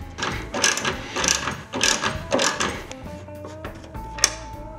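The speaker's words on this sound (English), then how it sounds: "The first step is to remove this bolt right here from the tailgate." Socket tool working loose a bolt on the tailgate of a 2019 Ford Ranger, a run of repeated ratcheting clicks and metallic scrapes in bursts, fairly close, followed by a few lighter taps and a sharp click near the end.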